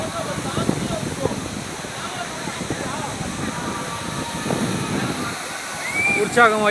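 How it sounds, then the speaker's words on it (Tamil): Water from the Aagaya Gangai waterfall rushes steadily toward Puliyancholai, a continuous broad roar with voices talking underneath throughout. "ஆகாய கங்கை நீர்வீழ்ச்சியில் இருந்து புளியஞ்சோலை செல்லக்கூடிய தண்ணீர் இது."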